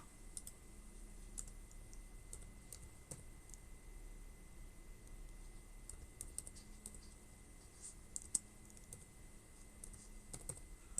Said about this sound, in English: Oh, now I gotta type it.